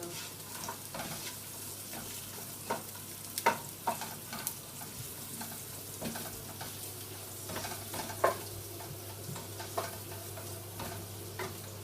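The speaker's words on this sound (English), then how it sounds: "So I'm gonna do this aubergine sauce for this recipe. Okay, so I'll start with the onions." Onions frying in a pan as the base for an aubergine sauce, a soft continuous sizzle with scattered utensil taps and stirring scrapes, fairly quiet and without voices.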